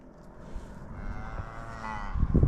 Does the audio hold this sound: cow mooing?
yes